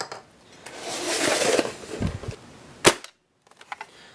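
A Laser Gnomes Sledgefire shotgun shell, Version 4, is fired unprepared, giving one sharp, loud, close pop after some handling rustle and clicks, followed by a few faint taps.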